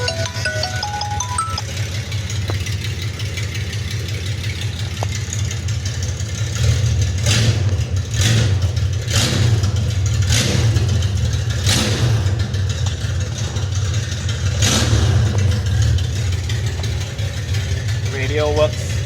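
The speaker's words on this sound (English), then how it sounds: "Let's see it run for a short while." A 1977 Datsun 280Z fitted with an L30 engine runs steadily at a close, loud idle, with a few brief revs and clicks over the constant low drone.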